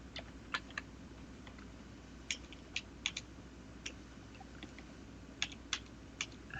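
Quiet, scattered keystrokes on a computer keyboard, a handful of soft clicks in irregular short bursts over a faint steady room hum, with no voices.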